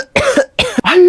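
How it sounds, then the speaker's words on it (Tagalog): A child coughs three times in quick succession, close and loud, each cough short and harsh with a brief gap between them. "Hala, inuubo ka ba, nak?"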